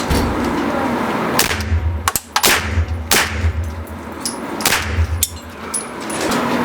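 A rifle fired through a Boss suppressor, several loud close reports with sharp cracks at irregular intervals, each followed by a short booming decay outdoors.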